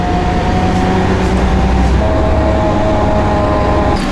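An old Russian bus in Vorkuta rattles and drones loudly throughout, a constant heavy engine roar and cabin vibration heard from inside with no break or voices.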